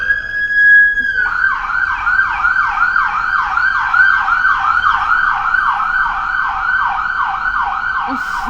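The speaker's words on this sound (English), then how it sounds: "Sorry about the siren noises." A wailing emergency siren sweeps up and down in steady repeated cycles, loud and close, continuing throughout with low traffic rumble underneath.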